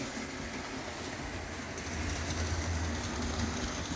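Wrenn model locomotive Cardiff Castle running on its track, a steady low mechanical rumble and whirr with faint rail clatter that grows slightly louder as it approaches, heard alone without voices.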